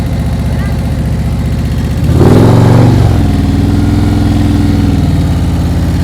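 A motorcycle idles steadily during slow-speed riding practice in California, then gives one short, loud rev before settling back to a low rumble, close to the listener.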